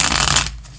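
A short riffling burst of tarot cards being shuffled by hand, close and brisk, cutting off into quiet after about half a second.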